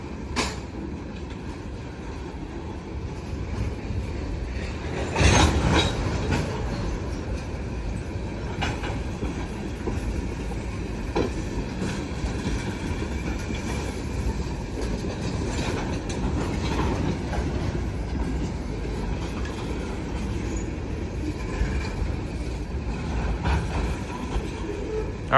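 A CSX L234 freight train hauling tank cars rolls steadily past near Greenville, North Carolina, with continuous rumble and clacking wheels, a brief louder clank early on, and no talk.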